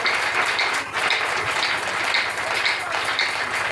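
A church congregation applauds in steady, dense clapping that fills the whole moment, with voices faintly present underneath.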